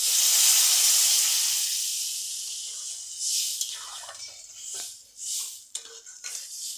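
Water and salt poured into a hot pan of soybean curry give a loud, steady hiss that fades over a few seconds, followed by clinking as a utensil stirs the pan.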